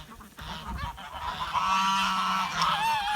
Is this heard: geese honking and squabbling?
yes